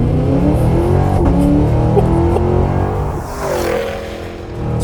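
Cadillac Escalade-V's 6.2-liter supercharged V8, paired with a 10-speed gearbox in a 6,500-pound SUV, revs and pulls hard. A loud close roar climbs through a gear change, then surges again.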